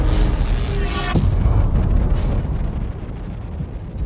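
A massive explosion tearing apart a city in a science-fiction audio drama, a loud close roaring blast with a sharp burst near one second, then a long rumbling, crackling debris tail.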